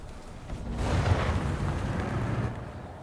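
A tank cannon fires in the War Thunder video game: one deep, rumbling boom swells and rolls on for about two seconds before fading, heavy and low with no speech over it.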